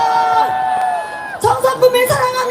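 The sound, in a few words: crowd applauding and cheering at Cheongsong apple festival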